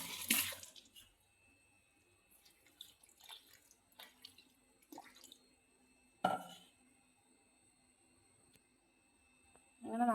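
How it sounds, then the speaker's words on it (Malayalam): Water poured onto ground semolina (rava) in a bowl to soak for dosa batter, faint splashing and trickling in a quiet room, with a few brief clinks and louder bursts at the start, middle and end. "ഇത് നമുക്ക് കുറച്ച് വെള്ളം ഒഴിച്ച് കുതിർക്കാൻ വെക്കാം,"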